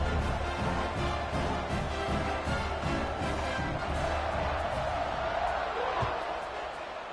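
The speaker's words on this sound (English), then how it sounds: "this crowd is buzzing after that last score" A college football stadium crowd buzzes after a score at East Carolina vs North Texas, a dense steady roar of many voices that fades slightly toward the end, with a commentator's voice over it.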